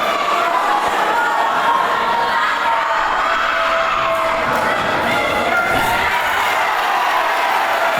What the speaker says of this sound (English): The crowd roar every time Jacob lets his combinations flow.